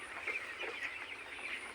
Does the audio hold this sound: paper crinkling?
no